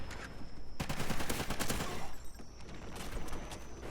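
Rapid bursts of automatic fire from an AK-12 assault rifle shot from the hip in Call of Duty: Ghosts, close and loud, with short pauses between strings of shots.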